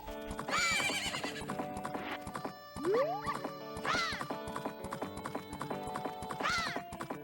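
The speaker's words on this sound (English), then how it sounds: "So, hey, we now have a horse." A horse on Romani Ranch in Zelda: Majora's Mask, with rhythmic clip-clop hoofbeats under music and several loud neighs and whinnies rising and falling.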